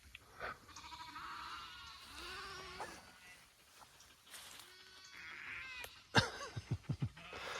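Young lamb about three weeks old bleating on a sheep farm, several wavering calls at moderate distance among other flock noise, ending with a louder burst of short rhythmic thumps or knocks.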